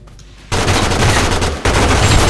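Loud, rapid automatic gunfire from the video game Totally Accurate Battlegrounds bursts in after a quiet start. After a brief break it resumes just as dense and loud.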